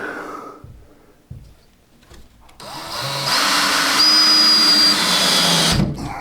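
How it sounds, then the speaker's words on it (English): A cordless drill starts up and whines steadily at high speed for a few seconds, loud and close, after some quiet handling noises. "I can probably set the clutch on this drill"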